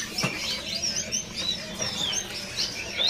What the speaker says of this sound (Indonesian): Di kios ini juga ada dia burung seri gunting.